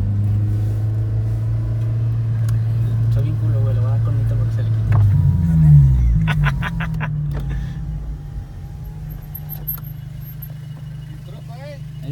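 A car engine running with a nitrous oxide kit, a deep low droning rumble that swells and sweeps briefly midway before settling back, with voices talking over it.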